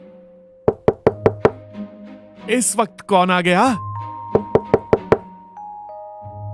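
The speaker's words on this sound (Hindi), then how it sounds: "तभी दरवाजे पर जोरदार दस्तक हुई।" Loud, sharp knocks on a house door come in quick bursts of five, then a voice speaks over tonal background music before another rapid series of firm knocks rings out.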